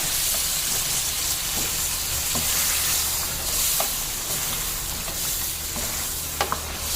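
Chicken karahi masala fries with tomato and yogurt in a wok, a loud, dense sizzle with steamy hiss. Occasional light clinks from stirring sound over it, with no voices.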